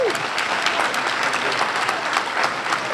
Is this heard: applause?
yes